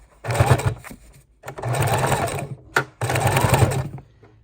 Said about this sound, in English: We're just going to sew a couple of stitches.